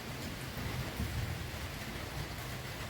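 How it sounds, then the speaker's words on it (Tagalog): Light morning drizzle falls outside a house, a soft, steady, even hiss of fine raindrops that stays constant throughout, with no voices. "Ambon lang pala."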